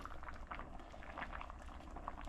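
Rice simmering in a pot of boiling water in a home kitchen, a steady close bubbling and patter with soft pops running throughout, no voices.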